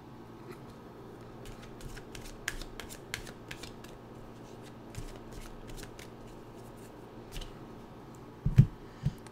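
Oracle animal cards being shuffled, a soft run of papery riffles and taps close by, followed by a louder thump near the end.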